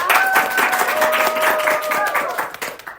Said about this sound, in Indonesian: Beri tepuk tangan dulu dong buat mereka.